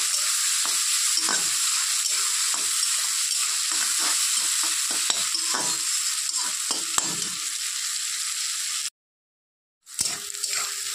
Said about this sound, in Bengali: মাছ পেঁয়াজ রসুন সবই একটু ভালো করে ভাজা হয়ে গেছে।